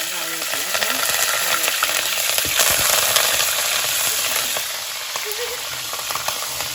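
Curry leaves hitting hot oil that already holds popped mustard seeds and fenugreek, a loud continuous sizzle and crackle with a few stirring scrapes, no speech.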